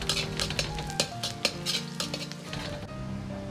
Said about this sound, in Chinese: 油热后，先下入葱蒜，